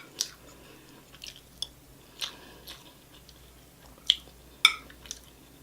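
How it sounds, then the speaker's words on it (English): Someone chews a mouthful of broccoli and rice at close range in a mukbang-style meal of shrimp and broccoli stir-fry, with a few soft, wet crunches spaced out over quiet background. "First bite, broccoli, rice."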